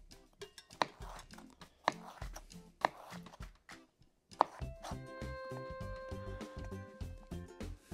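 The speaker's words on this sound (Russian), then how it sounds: "И теперь огурец можно нарезать вдоль." Knife chops a cucumber lengthwise against a cutting board in quick irregular strokes, sharp taps close by, growing denser and faster toward the end.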